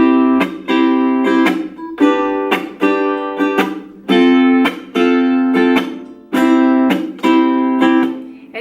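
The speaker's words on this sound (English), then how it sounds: "To chuck, it means that you're going to make a percussion sound or a drum sound with your" A ukulele is strummed in repeated chords, with short percussive muted chuck hits cutting between them in a steady rhythm, played loud and close with no talking.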